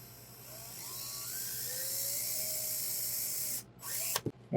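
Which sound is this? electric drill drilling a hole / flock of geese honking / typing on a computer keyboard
electric drill drilling a hole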